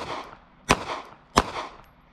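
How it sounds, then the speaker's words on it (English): A Smith & Wesson Bodyguard 2.0 pistol fires Winchester Silvertip rounds one-handed at a range, two sharp, loud reports about two-thirds of a second apart, each ringing briefly before fading. "We're gonna do some strong hand only shooting here."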